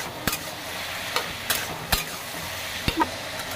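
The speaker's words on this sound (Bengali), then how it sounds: "চাল কুমড়ো দিয়ে দিয়েছি, ভালো করে নেড়ে নিচ্ছি" Chunks of ash gourd stirred in a pan with salt and turmeric, giving a low sizzle under a handful of sharp spatula scrapes and knocks spread unevenly across the stretch, with no one speaking.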